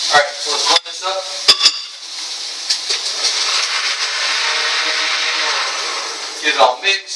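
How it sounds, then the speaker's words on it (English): A kitchen blender whirs steadily for a few seconds, mixing a thick milkshake with ice cubes, after a short burst of clatter and handling at the start and followed by a few knocks at the end. "Alright, so let's blend this up."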